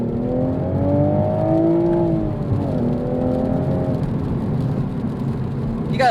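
A 2023 Toyota Supra with a manual gearbox and 3-liter single-turbo engine accelerates hard, its engine note rising in pitch through the revs, dropping at a shift, then climbing again, loud and close with no talk.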